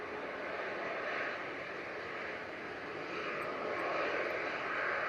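A KLM Embraer airliner coming in to land in gusty wind, heard as a faint, distant, steady engine roar with broad wind-like noise and no talking.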